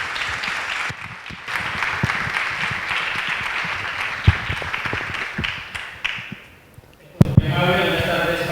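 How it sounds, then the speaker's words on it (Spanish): Audience applause at the Cinexcusa 2018 film festival, a dense crowd of clapping hands filling the room for several seconds before fading to near silence, then a louder burst of clapping returns at the end. "Recibámoslos pues, como es costumbre, con un aplauso merecido."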